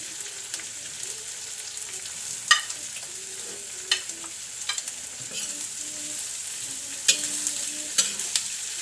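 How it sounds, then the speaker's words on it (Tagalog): Tofu added to a pan with bean sprouts and bell peppers, frying with a steady low sizzle and occasional sharp clicks and scrapes of a utensil, close and moderate in level with no talking. "Next, lagay na natin itong tofu."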